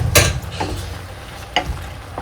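Short bursts of crackling sizzle as soya mince (TVP) drops into a hot, oil-free frying pan, with a few scraping stirs; moderate level, no voices.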